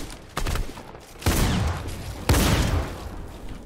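Fortnite gunfire from a super shotgun and an AUG, three loud separate blasts about a second apart, each with a booming sustained tail.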